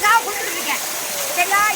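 The Puli waterfall's steady rushing roar fills the background while a person talks over it.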